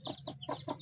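A chicken clucks right after being fed in the morning, giving a quick run of four or five short, close, rhythmic clucks.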